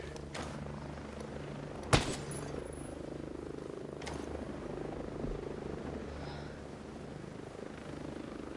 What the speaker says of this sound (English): Oh, we're wasting bullets on a damn helicopter.